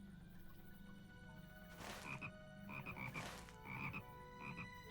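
Frog croaking in the game Lord of the Rings Online, repeated short croak calls in clusters over a steady ambient background, fairly close and clear, with no talking.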